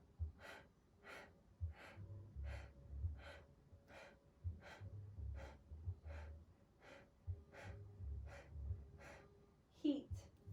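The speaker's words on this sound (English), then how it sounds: "Forceful exhale, passive inhale." Kapalabhati yoga breathing, a steady series of about fifteen sharp, forceful nasal exhales at roughly one per second, close and clear, with passive inhales between and a low hum underneath.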